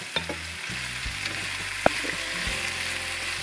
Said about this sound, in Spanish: ahora le vamos a echar los tomates